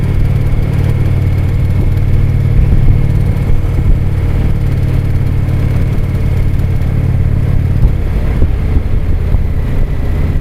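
Motorcycle engine heard on the move, a loud, steady mid-pitched drone that holds at an even pace for the whole stretch, with a slight change in tone near the end and rushing wind noise underneath.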